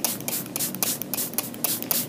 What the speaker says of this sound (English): This is just some alcohol that I put in a bottle, and then you just want to spray everything.